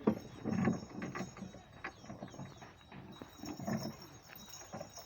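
A horse walks on hard ground, its hooves clip-clopping in an uneven rhythm at a moderate distance over faint background noise.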